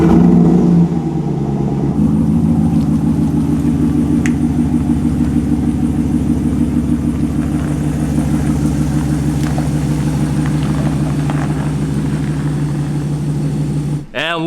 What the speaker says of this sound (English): So let's get in the truck and go for a little ride.